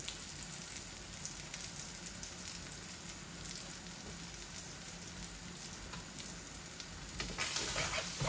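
Dried fish shutki fries in a pan with a soft, steady crackling sizzle, heard close, growing brighter and louder near the end.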